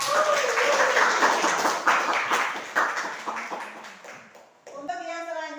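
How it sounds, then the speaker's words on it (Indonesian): A class in a biology lesson claps for a presenter. The clapping is moderately loud, fades over about four seconds, and then a voice begins speaking. "Ya baik, berikan tepuk tangan untuk Bapak."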